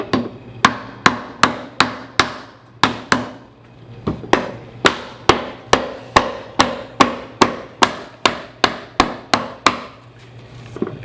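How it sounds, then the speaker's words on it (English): Rubber mallet hammering a kitchen base cabinet panel down into a wooden groove: a steady run of about two dozen sharp, close wooden knocks, roughly two per second with a brief pause, no talking. "This is where we can use our rubber mallet to hammer it down."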